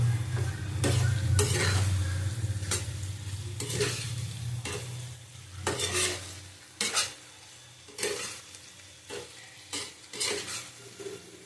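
Potatoes are stirred and sautéed in a hot pan for a tengra fish and potato curry: a steady sizzle with repeated sharp spatula scrapes against the pan, close and clear, without talk.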